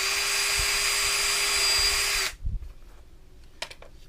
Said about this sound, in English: always drill first.